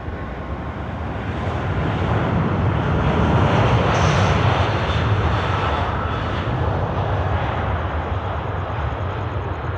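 An Emirates airliner departs Sydney Airport at night, a loud sustained jet engine roar that swells toward the middle and holds steady throughout, with no talk.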